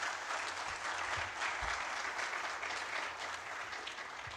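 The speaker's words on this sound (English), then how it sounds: "Please, let's applaud ourselves for this." Dense, steady applause from an audience at a community event with CorpNation Foundation, a lively wash of many hands clapping for several seconds without a break.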